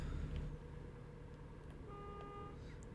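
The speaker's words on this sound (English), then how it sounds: "So that's still honking the horn." A vehicle horn in a trucking video game sounds one faint, steady tone partway through, over a low engine hum and background rumble.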